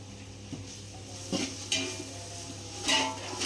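Biryani masala with fresh coriander and mint being sautéed in a pot, giving a soft steady sizzle with a few scraping stirs and light clinks of a spoon against the metal, fairly quiet and close.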